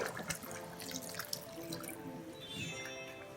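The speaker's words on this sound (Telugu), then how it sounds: "ఇప్పుడు ఇందులోకి కొంచెం వాటర్ వేసుకొని" Water runs and splashes into a pressure cooker of partly cooked mutton curry, a brief trickling pour with a faint ringing tone as it fills.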